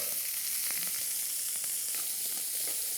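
A beef fillet sears in a hot pan with a constant, dense sizzle and scattered small spits and pops, close and loud throughout.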